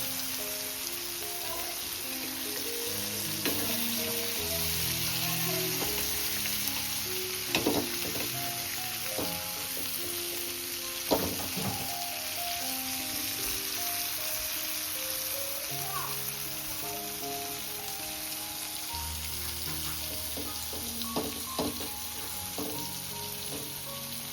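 Prawns fry on a hot tawa with a steady, soft sizzle and occasional crackles and scraping stirs, while someone talks over the cooking.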